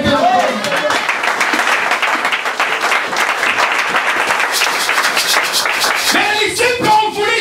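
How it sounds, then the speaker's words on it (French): A church congregation at a French-language revival service breaks into loud, sustained applause to acclaim the Lord, dense steady clapping throughout with crowd voices mixed in. "On va acclamer les Seigneurs."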